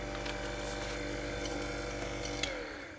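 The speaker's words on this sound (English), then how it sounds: "Now listen to the motor sound if you can." A Jericho-type burr coffee grinder's electric motor spins up to speed, a steady close mechanical whir and hum with faint rattling, holding evenly before dropping off slightly at the end.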